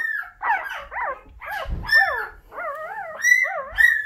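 Several Asian bear dog puppies, a litter of Tibetan Mastiff, American Akita and F1B hybrid pups in a nursery, yelp, whine and bark in a steady back-and-forth, with high whimpers and squeaky cries close by and no talking.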